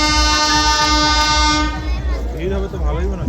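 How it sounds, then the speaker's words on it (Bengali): As a train arrives at a station, a loud, sustained train horn blares for over a second, then stops, leaving rumbling rail noise with people talking close by. "ট্রেন চলে এসেছে"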